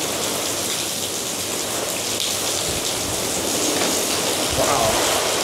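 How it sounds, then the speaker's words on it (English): Heavy wind-driven rain from Hurricane Milton pours in a dense, loud roar, a continuous hiss of water hammering surfaces with gusty swells and low rumbles underneath. "I don't think I've ever seen it rain this heavy before."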